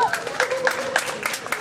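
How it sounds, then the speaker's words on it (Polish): An audience claps and cheers for the winning band at a festival, a short, lively burst of crowd applause mixed with a few raised voices. "Wielkie brawa."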